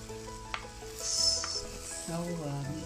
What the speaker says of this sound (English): Now mix all the mutton to the sauteed onion.